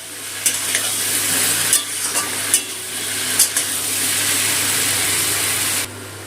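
Vegetables with ground cumin and Kashmiri chili powder frying in a pan, a steady loud sizzle with scraping stir strokes and utensil clicks recurring every second or so, ending abruptly.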